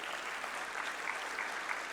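Audience applause at an Indonesian political event addressed to a presidential candidate, a dense steady clatter of many hands clapping together at even loudness throughout, with no voices over it.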